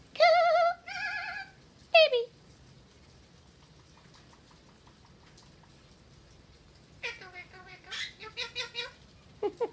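Australian rock pebbler parrot giving loud, harmonic whistling calls in two short bursts at the start and a run of repeated notes near the end, over a quiet stretch with faint splashing from its bath.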